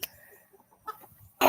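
A farmyard rooster gives a few soft, clipped clucks in quick succession, close and fairly faint, with a louder rustle at the end.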